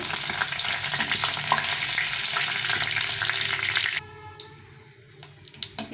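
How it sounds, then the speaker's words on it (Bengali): Bay leaf, dried red chilli and white cumin tempering sizzling loudly in hot oil in a pan, a dense steady fry for about four seconds before it drops off to faint crackles and a few stirring clicks. "মশলাটা একটু ভেজে নিয়েছি ইয়ে ফোড়নটা একটু ভেজে নিয়েছি"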